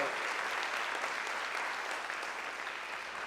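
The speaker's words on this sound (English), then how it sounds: "Why don't we give him a round of applause and thank him." A luncheon audience applauds John Fasana at a Foothill Gold Line project event, a steady, dense wash of many hands clapping that holds evenly at moderate distance throughout, with no voices rising above it.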